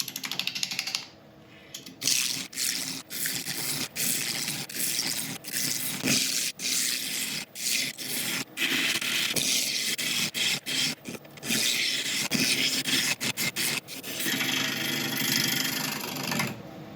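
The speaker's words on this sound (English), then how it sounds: "I'll be starting off with the 3/8 inch bowl gouge from Record Power" A 3/8 inch Record Power bowl gouge cuts a cracked apple log spinning on a lathe, giving close, rough scraping and chattering bursts broken by short pauses.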